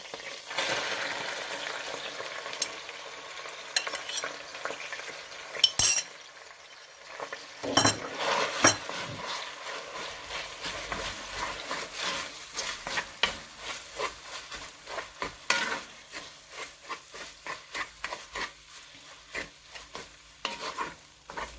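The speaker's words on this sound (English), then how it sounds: "So I'm going to tip in the okra" Okra tipped into hot oil for a West African okra soup sizzles and crackles nearby, with frequent stirring scrapes, pan clatter and utensil clinks in an irregular rhythm and no talking.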